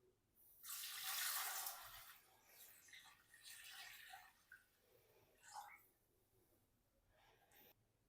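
Water runs and splashes steadily into a cooking pot for a couple of seconds, then trickles in softer, intermittent pours with small splashes.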